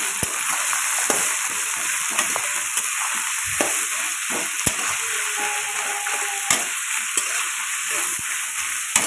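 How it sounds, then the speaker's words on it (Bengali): Ginger garlic paste fries in hot oil for a rita fish curry, a steady close sizzle with occasional stirring clicks and scrapes running throughout. "আদা রসুন পেস্ট করে নিয়েছে, সেটা দিয়ে দিল। এখন ভেজে নেবে সুন্দর করে, লাল লাল করে।"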